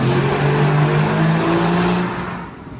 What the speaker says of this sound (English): you know the car sounds great